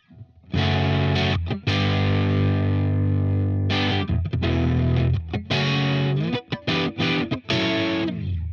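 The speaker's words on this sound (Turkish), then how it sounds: "Al sana Marshall tonu." A heavily distorted electric guitar through a Marshall amp tone plays loud sustained chords and choppy bursts with a crunchy sound, with short pauses between phrases.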